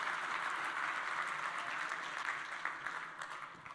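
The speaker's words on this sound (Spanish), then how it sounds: "Un aplauso a las abuelas," Steady, fairly faint applause from an audience at a convention, honoring the grandmothers; dense, even clapping sustained throughout the short stretch.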